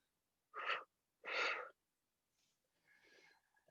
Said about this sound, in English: I like to add that little extra pulse of exhale breath.